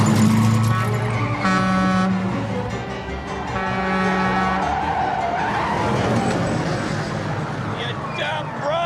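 A car on a one-way street is thrown into reverse, its tires skidding and squealing loudly over a steady engine roar, with a horn toot and background voices in a comedic chase scene.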